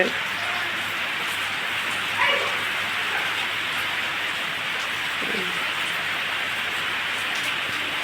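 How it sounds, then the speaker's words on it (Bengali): Steady rain hissing down on surfaces, continuous and moderately loud, with a faint low hum and occasional distant sounds mixed in. "দেখো কি বৃষ্টি হচ্ছে"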